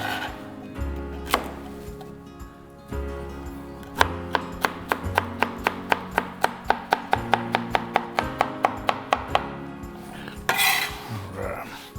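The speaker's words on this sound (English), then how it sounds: "we're going to cut up some of our celery, onion, and garlic" Knife chopping celery, onion and garlic on a cutting board, a fast, steady run of crisp near thuds that quickens into an even rhythm, with a few scrapes and clinks around it and no talking.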